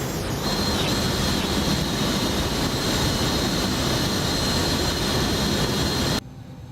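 Loud, steady roar of Embraer E145 jet engines during takeoff in the X-Plane 11 flight simulator, a dense continuous rumble with a high whine that holds for about six seconds, then cuts off abruptly.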